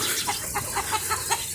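Chickens cluck on a farm in Riyadh, a flock of hens and many roosters, with short repeated clucks arriving every fraction of a second over a steady background hiss, fairly close and moderately loud.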